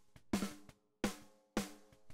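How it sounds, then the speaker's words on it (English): A compressed snare drum in a rock mix with a transient shaper, three evenly spaced hits with sharp attacks and quickly decaying tails, alone without talk. "Needed to compress the snare."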